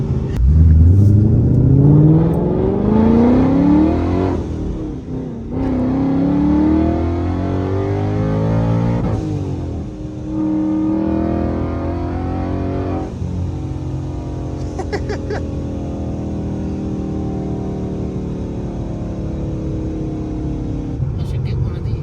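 An 800-horsepower Mustang revs hard while driving, its engine climbing through repeated rising pitch sweeps with gear-change dips, loud and close inside the car, with voices talking over it.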